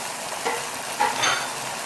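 Grated carrot and finely chopped cabbage crackle in a hot pan for chicken fried rice, a steady close sizzle broken by a few light stirring scrapes.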